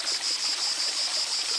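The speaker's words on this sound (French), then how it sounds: "vous entendez, il y a un filet d'eau qui coule" A thin trickle of water runs along a shallow stream bed below a dried-up waterfall on the Orbiel, a steady soft burble close by with a persistent high insect-like hiss, no voices.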